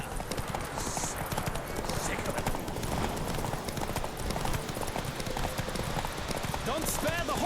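Horses gallop in a race in The Witcher 3, a steady rapid clip-clop of hooves running throughout, with voices and game sounds over it.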